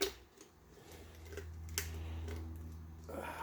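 Kitchen shears snip through a raw turkey's backbone while spatchcocking it, giving a few faint, sharp clipping clicks spread over a low steady hum, with no voices.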